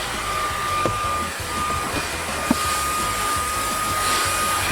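A steady motor whine with a broad airy hiss runs throughout, like an Electrolux UltimateHome 700 vacuum cleaner drawing air, with a couple of faint clicks.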